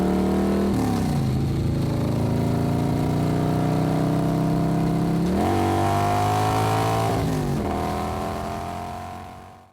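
Aerial tram car riding up the Sandia Mountains, a steady mechanical hum with layered drive tones that shift pitch a few times, continuous and fairly loud throughout, no talking.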